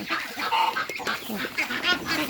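Farm ducks and chickens in Thailand quack and cluck in a dense, close cluster of calls, with a few short bursts standing out.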